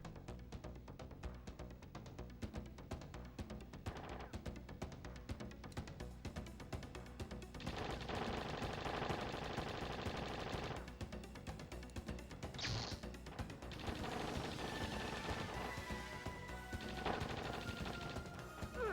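Video game gunfire crackles in dense rapid bursts, fairly quiet overall, with stretches of continuous shooting and brief pauses between volleys and no speech.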